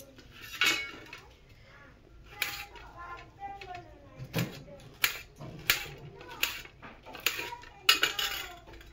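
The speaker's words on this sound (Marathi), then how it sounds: "हे बघा असेच आपण आता सगळ्या भेंड्या चिरून घेणार." Knife chopping okra on a board in a village Maharashtrian kitchen, a series of sharp, close taps and clicks in an uneven rhythm, growing more frequent toward the end.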